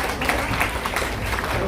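Audience applause at a charity trust event honouring a national MMA gold medalist, brief lively clapping from a crowd with faint voices mixed in.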